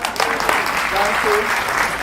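A storytelling session's audience claps briefly for a participant, a short burst of scattered clapping with voices talking over it.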